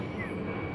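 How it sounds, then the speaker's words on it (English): Military plane flying overhead above a Civil War prison camp site, a steady broad engine roar filling the short moment at moderate distance, with no talk over it. "Holy shit, that's a military plane."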